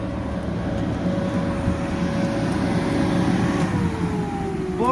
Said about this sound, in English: the next thing we're going to do is go around back and turn off the blower.